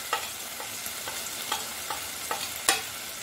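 Turmeric and other dry spice powders fry in oil in a pan for an egg curry, a steady sizzle broken by regular scraping stirs every half second or so, close up and with no talking.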